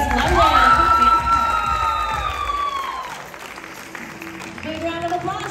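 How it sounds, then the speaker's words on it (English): Crowd at a regional dance competition awards ceremony claps and cheers, with high children's shouts and whoops rising over applause that starts loud, fades, then swells again, while an announcer's voice runs over it. "Big round of applause to your Overture Junior Solo Champion."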